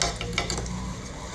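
Sauce poured into a pan of pineapple chicken while it cooks, giving a steady close sizzle with light stirring and liquid movement, alone and without talk.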